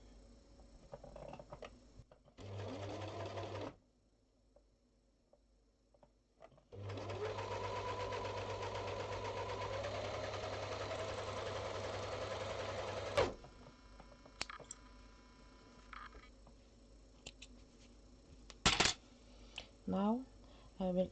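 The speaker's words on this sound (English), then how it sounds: "I have this overlocker." An overlocker serging doll leggings runs in two loud, steady mechanical bursts, a short one and then a longer stretch of several seconds, with quieter handling and fabric clicks between and after.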